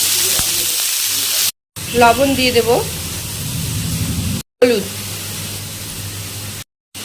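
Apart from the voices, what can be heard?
onion frying in oil with black cumin and dried chili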